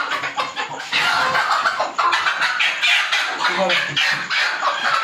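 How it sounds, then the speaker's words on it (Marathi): Agile native desi village hen squawks and clucks in repeated bursts while being caught and held in the hand, loud and close, with speech over it. "ही कोंबडी चपळ आहे. ही बोंबट्टे बघा पकडल्यावर थांबत नाही हातामध्ये"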